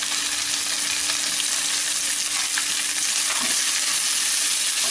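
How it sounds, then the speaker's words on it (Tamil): Onion and capsicum sautéing in a pan for Chettinad pepper chicken, giving a steady, dense hiss of frying with faint stirring scrapes throughout, close and unbroken. "கொஞ்சம் நல்லா காய் வதங்கட்டும்."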